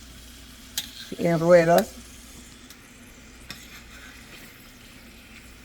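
Mangu, a Dominican mashed plantain dish, being stirred in a pan, a brief scraping and clatter around the middle of the clip with a person speaking over it and quiet stretches after.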